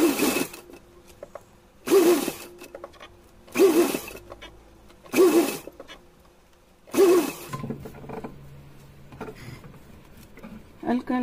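An electric sewing machine stitches lace along the edge of a small Laddu Gopal dress in five short whirring runs at a steady rhythm, separated by pauses.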